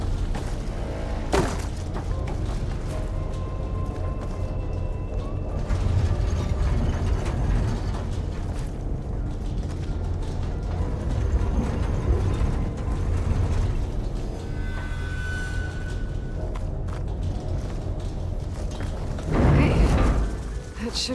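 A massive door mechanism in Horizon Forbidden West grinds and clanks for a long stretch, with ratcheting gear noise, low rumble and occasional metallic knocks and hisses, steady and fairly close.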